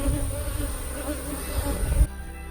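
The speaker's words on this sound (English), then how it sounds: "You can see that the bees have calmed down quite a bit" Honey bees swarm and buzz around their hive out in a bee yard, a dense steady drone with faint voices underneath that cuts off abruptly near the end.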